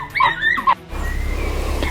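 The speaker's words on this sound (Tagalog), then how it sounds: "maingay mga aso." Dogs bark and yip in a short, close burst, which gives way to a steady background rumble.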